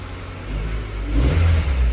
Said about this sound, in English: That's a cold, cold start. After all that trouble, there, it's starting to smooth out right now.